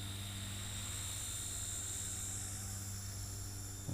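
A small RC helicopter, upgraded and said to fly more like larger helicopters, whirs with a steady, continuous rotor drone, close and fairly loud throughout, ending with a brief shift at the very end.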